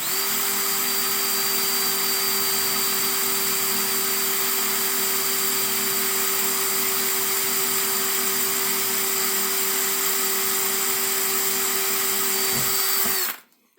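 A drill boring holes in an engine piston, one loud, steady high-pitched whine held for about thirteen seconds before it cuts off abruptly and spins down.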